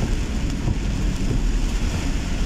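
Light rain falls over a flooded street in Cebu, a steady, dense hiss of drops on water and pavement with low rumbling underneath, constant and unbroken throughout.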